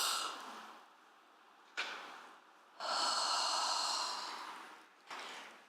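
Slow, quiet breaths during a gentle yoga stretch come through as soft airy inhales and exhales, with one long, fuller exhale in the middle and short breathy onsets between them.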